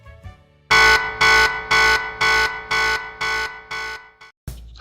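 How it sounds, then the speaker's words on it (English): A loud electronic alarm buzzer pulses in seven long, evenly spaced blasts, briefly cutting off and then starting once more, with no talking. "Sorry about the alarm"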